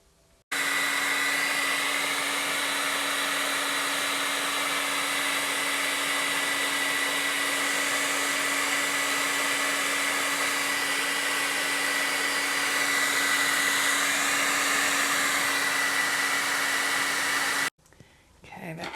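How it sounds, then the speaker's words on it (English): A handheld hairdryer blows on wet paint in an art journal, switching on abruptly and holding a loud, steady whirring roar with a constant hum, then cutting off near the end. "I might put the hairdryer on it."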